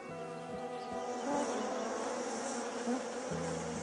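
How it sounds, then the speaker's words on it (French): Honeybees buzz steadily at close range, a continuous droning hum that swells slightly and fades without pause, heard with no voices. "Si l'abeille avance en bourdonnant"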